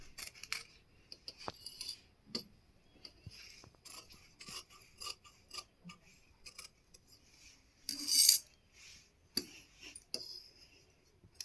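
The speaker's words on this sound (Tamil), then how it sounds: "இப்போ நம்ம மார்க் பண்ணியிருக்க பிளேஸஸை நம்ம கட் பண்ணலாம்." Scissors cut along marked lines on kerchief fabric in a tailoring class, producing a sparse series of close, crisp snips and cloth rustles at uneven intervals, with one louder crunching cut partway through and quiet gaps between.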